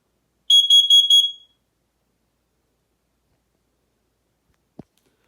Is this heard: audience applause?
no